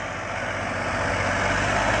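A 58 hp Massey Ferguson 9500 tractor hauls a 16-disc harrow through a field, its engine a steady, loud, close drone with no talking.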